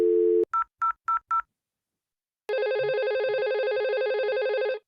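Telephone dialing with DTMF tones: a brief dial tone, four quick evenly spaced keypad beeps, a pause of silence, then a loud continuous ringing tone that carries to the end.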